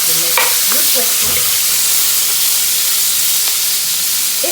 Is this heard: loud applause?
no